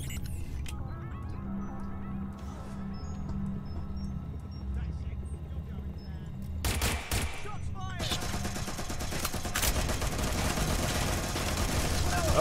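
Gunfire in Watch Dogs Legion, with a quieter stretch of game sounds giving way to sharp shots and then a dense, continuous burst of rapid firing that grows louder toward the end.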